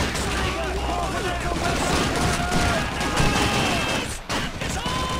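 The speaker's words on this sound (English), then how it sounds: "How are they even shooting at me?" Gunfire in the PC game Call of Duty 2, a dense, continuous wash of rifle and machine-gun shots with crashes and explosions, loud and unbroken, briefly dipping near the end.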